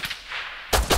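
Gunfire in the survival video game Rust, heard as two loud, sharp shots close together near the end after a quieter stretch of background noise.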